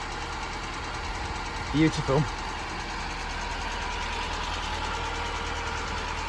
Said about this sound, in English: Let's all just appreciate how sweetly this engine runs.